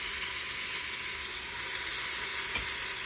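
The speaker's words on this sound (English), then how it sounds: "my oil is hot, so I'm gonna put it in my oxtail" Oxtail pieces hiss in hot oil with a steady, dense sizzle that holds at one level throughout, with a faint clink near the end.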